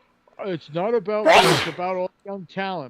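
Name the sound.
sneeze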